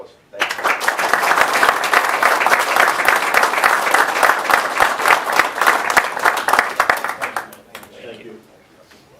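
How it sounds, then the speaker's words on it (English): A round of applause at a public board meeting, dense steady clapping from a room of people that starts abruptly, holds for several seconds and thins out to a few claps, with a brief voice under it. "Again, round of applause."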